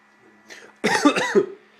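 A single close, harsh cough with a brief throat-clearing rasp, loud against a quiet background.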